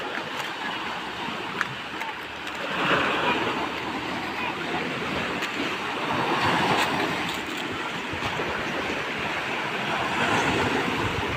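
Strong sea waves surge continuously in a broad, roaring wash, swelling louder in rolling bursts, with wind noise mixed in and a person speaking faintly underneath.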